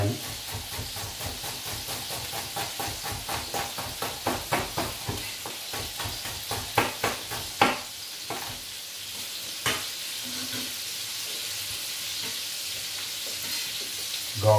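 Onion fries in a pan with a steady hissing sizzle, overlaid by a run of rhythmic scraping stirs that quicken and then stop, leaving the sizzle alone with a couple of sharp knocks, close by.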